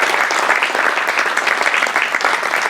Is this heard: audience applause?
yes